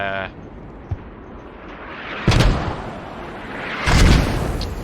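Mortar fire in a military video game match, two loud heavy booming blasts a little apart, over steady background game noise.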